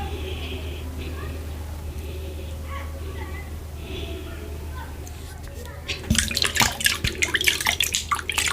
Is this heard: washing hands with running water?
yes